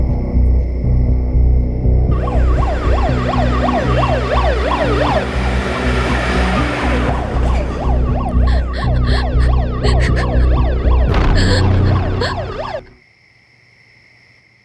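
An ambulance siren wails loudly and close in repeated rising and falling sweeps over a running vehicle engine, then cuts off abruptly, leaving near silence.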